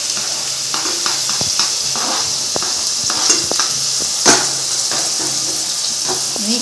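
Onion and tomato pieces are sautéed together in a pan for tomato chutney, giving a close, steady frying hiss with intermittent scraping and tapping from stirring.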